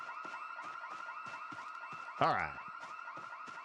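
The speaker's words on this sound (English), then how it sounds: "They gotta fix those house alarms." A house alarm rings nonstop in the Project Zomboid zombie survival game, a steady pulsing electronic wail at moderate distance. One brief louder burst cuts in partway through, and a voice speaks briefly.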